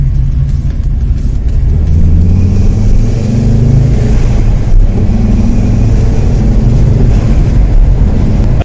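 Ford S-Max engine after a recirculation and boost control valve replacement, a loud, close, steady low drone that rises and swells in revs, with no talking.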